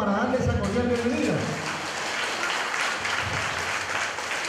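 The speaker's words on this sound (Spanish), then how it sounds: "un fuerte aplauso para darle esa cordial bienvenida" Audience applause welcoming a visiting official at a municipal event in Puerto López, steady clapping that starts under a voice and then carries on alone at a moderate, even level.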